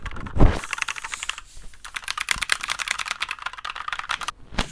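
Keys clack rapidly on a cheap mechanical keyboard, close and crisp. Dense bursts of typing with brief pauses, no voices.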